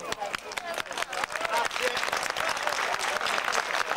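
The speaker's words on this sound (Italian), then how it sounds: "merita un bel applauso" Crowd applause breaks out for a rider at a village horse race in Sardara, Sardinia: dense, steady clapping that holds loud for the whole stretch, with some voices mixed in.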